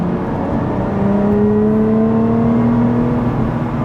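A sports car engine in sport mode revs up steadily toward a 7,000 RPM redline, its pitch climbing smoothly as a loud, close, sustained whine with no talk over it.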